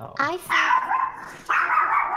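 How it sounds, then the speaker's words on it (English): A pet dog barks and yips close to a microphone during a tabletop role-playing game session online, a sharp bark followed by two longer, louder barks, with a brief voice reacting between them. "Sorry, that was my dog."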